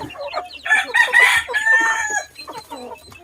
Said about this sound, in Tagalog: Yung iba pa nating alagang manok.